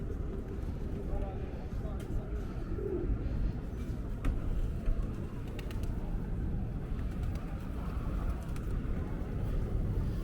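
Pigeons cooing on a busy New York City sidewalk along Eighth Avenue, soft low coos barely emerging from a dense wash of traffic and street noise, with someone talking nearby.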